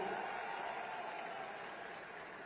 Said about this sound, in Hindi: सारथी जरा जोर से ताली बजाओ किशन भाई के लिए